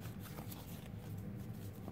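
Tarot cards being shuffled by hand make soft, continuous rustling and flicking at a quiet level, with no one speaking.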